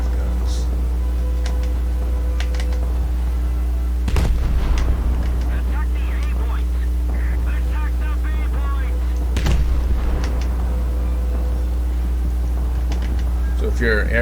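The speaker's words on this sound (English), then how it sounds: "So these naval guns are actually anti-aircraft guns." Anti-aircraft guns on the light cruiser Isuzu fire in War Thunder, with two heavy booming bursts and some lighter shots over a constant low engine drone, while someone talks throughout.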